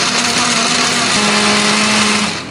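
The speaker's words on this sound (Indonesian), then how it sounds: "Kemudian kita akan haluskan, beri sedikit air atau minyak supaya lebih gampang untuk menghaluskannya ya." An electric blender grinds candlenuts, red chilies and coriander with a little water, a loud high whirring motor with a steady hum that runs continuously for a couple of seconds before slightly winding down.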